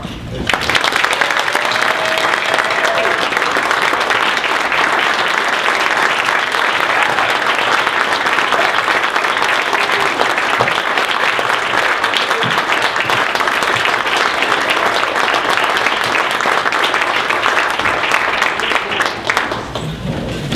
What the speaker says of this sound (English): Thanks for the standing ovation